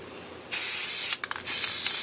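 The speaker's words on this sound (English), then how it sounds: "When you spray this, you want to make sure you get down in the cracks and crevices of the sign." An aerosol spray can hisses loudly in two bursts as it coats a wooden scroll-sawn Christmas golf sign. A long spray is followed by a brief stutter, then a second sustained spray.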